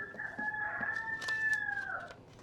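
A rooster crows once from a henhouse, a long drawn-out call lasting about two seconds, moderately loud and slightly distant, with no talk over it.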